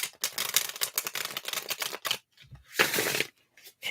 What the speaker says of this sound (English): It is very difficult for me to shuffle this deck.